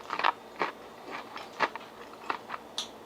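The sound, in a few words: crunching fried chicken wing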